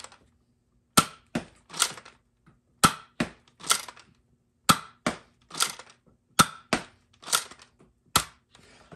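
Fortnite 6-SH hammer-prime toy blaster firing repeatedly, a sharp close snap on each shot, each followed by one or two rattling priming clicks, in a steady cycle of about seven shots.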